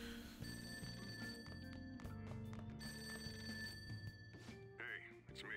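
A phone rings in the video game Persona 5 Royal, a repeated electronic bell-like ring over game music, fairly faint.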